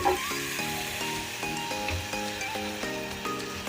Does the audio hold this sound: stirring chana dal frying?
yes